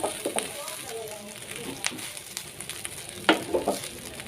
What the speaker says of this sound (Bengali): আমি সবজির সাথে রাইসটা ভালো করে মিশিয়ে নিলাম